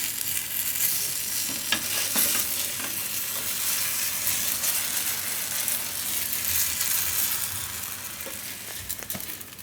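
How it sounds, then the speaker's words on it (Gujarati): Strawberry pancake frying in oil in a pan over medium heat, a steady loud sizzle with occasional crackles and pops, no voices. "તો આને બે બાજુ એ રીતે પકાવી લેવાનું. જરૂર પડે આ રીતે તેલ ફેરવી દેવાનું."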